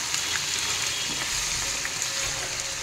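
Pre-boiled mutton, about 500 grams, fries in a pan with a constant dense sizzle and faint stirring, close and uninterrupted with no talking.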